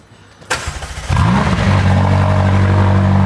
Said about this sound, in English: So you get to hear a cold start of this 570.